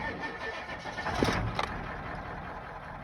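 A Ford 7.3 Powerstroke diesel engine in an OBS truck turns over and settles into a steady, close, rough idle, with a brief louder burst as it catches partway through.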